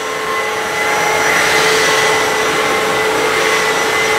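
A Kenmore HF5010 wet-dry vacuum runs continuously while cleaning a floor, a loud, steady whirring roar with a high whine, no talking.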